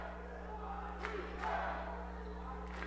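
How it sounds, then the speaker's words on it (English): Crowd noise in a gym at a college men's basketball final, a low sustained murmur with a few brief shouts and squeaks, under a steady electrical hum. "Crowd is getting loud here at Red River."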